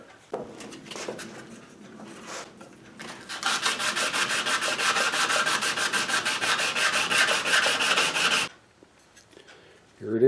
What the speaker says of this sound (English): now I will sand the entire bridge